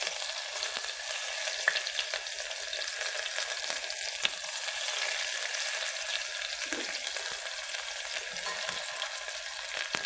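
Chopped onions fry steadily in hot oil in a pan for a drumstick tamarind stew, giving a continuous bright sizzle with a few faint clicks of stirring and no voices.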